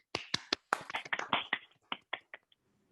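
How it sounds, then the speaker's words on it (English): Scattered claps from a virtual audience on a video call, a dozen or so sharp separate hits in an irregular, thinning patter, close and fairly loud, fading out into silence. "Thank you all for the virtual round of applause"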